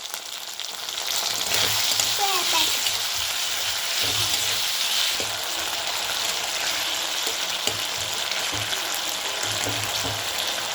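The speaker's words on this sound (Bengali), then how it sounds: "মশলাটা ভালো করে কষিয়ে নিচ্ছি।" Spice paste for raw banana kofta curry fries in a pan with a steady, close sizzle and crackle, occasional stirring scrapes and clinks breaking through the constant hiss.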